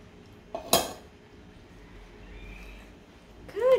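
Clinks of utensils against a bowl while mixing egg and vanilla for chocolate chip cookie dough, a couple of sharp knocks then quiet scraping, with a brief voice-like sound at the end.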